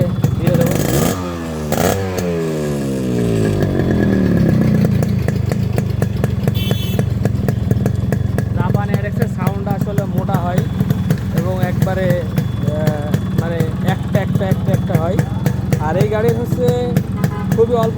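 A Japanese Yamaha RXS 115 motorcycle engine idles loud and close with a steady, throbbing two-stroke putter, revving briefly near the start, while someone talks over it in the later part.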